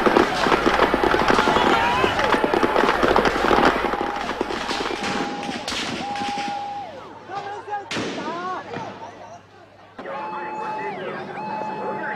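Automatic gunfire from soldiers at the 1989 Tiananmen Square crackdown rings out in rapid dense bursts amid crowd shouting, with a narrator talking over it.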